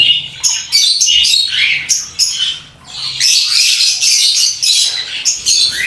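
Many aviary birds squawk and screech continuously at close range, harsh overlapping calls filling the space with a brief lull midway.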